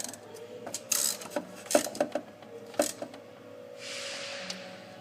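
Metallic clicks and ratcheting taps come from a wrench tightening a bolt on the A/C compressor of a Ford Five Hundred. Several sharp close ticks arrive in uneven bursts, followed by a softer hiss-like rustle near the end.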